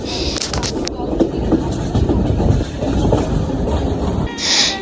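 A passenger train rumbles and rattles along the track, heard from inside with a steady, close clatter of the carriage, and brief voices and a squeal near the start and end.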